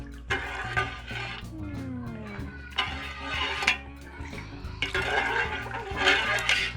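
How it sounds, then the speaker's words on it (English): Stiff ginger water poured into tamarind juice for a Ghanaian street-style drink, a liquid splash and trickle with clinks of pots and bowls, heard in bursts and fairly close. "You fetch the ginger water and add."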